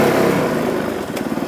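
A Honda CRF450L dirt bike engine pulls in first gear on a trail ride. The loud, close single-cylinder exhaust throbs in a steady pulsing beat as it rumbles along.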